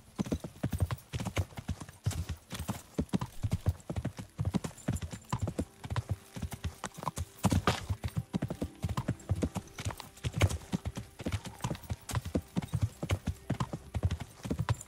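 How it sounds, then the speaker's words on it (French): Horse hooves clip-clop steadily and close while riding in the medieval game Kingdom Come: Deliverance, a continuous rhythmic patter with a faint whinny. "Allez hop, monte à cheval."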